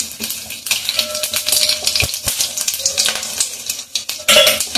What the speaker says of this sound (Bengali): একটুখানি এইভাবে সর্ষে ফোড়ন দিয়ে দিলাম।